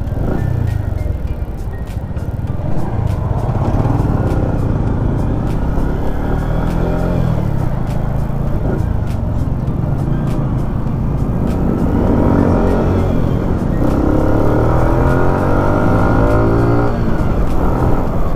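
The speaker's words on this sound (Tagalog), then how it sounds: "So, grabe traffic dito sa tulay. Umaga, ang daming tao, ang daming sasakyan." Heavy morning traffic crawls across a bridge, a steady dense rumble of car and truck engines with shifting tones and occasional horn-like hums, loud and continuous throughout without talk.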